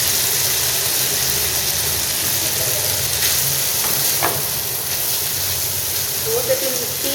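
Chicken sizzles and fries steadily in hot oil with green chili and garlic paste, a loud continuous crackle with a few clinks of a utensil stirring the pan partway through.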